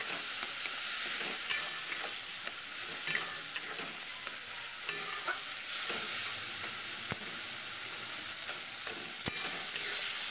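Tomato masala for a fish curry frying in oil while being stirred, a continuous close sizzle broken by scattered scraping ticks and clinks of the spatula, with no voices.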